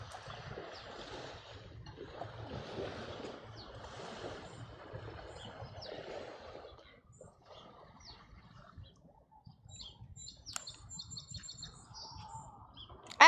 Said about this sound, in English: I actually love the sound of birds, the chirping.